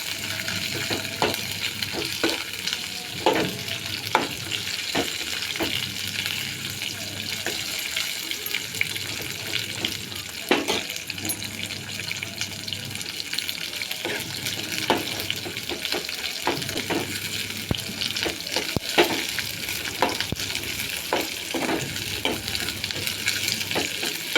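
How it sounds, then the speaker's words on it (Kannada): Four green chillies fry in a pan with a continuous, fairly quiet sizzle, broken by repeated clicks and scrapes of stirring and a faint running-water hiss in the background. "ಹಸಿ ಮೆಣಸಿನ್ಕಾಯಿ ನಾಲ್ಕು ಮೆಣಸಿನ್ಕಾಯಿ ಹಾಕೊಂಡಿದ್ದೆ ನೋಡಿ ಕಾಣ್ತಿದೆ ಅಲ್ವಾ ಇದು ಚೆನ್ನಾಗಿ ಕಾಯಿರಬೇಕು"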